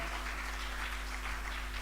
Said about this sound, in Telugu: ఒకసారి చప్పట్లు కొట్టాలి గట్టిగా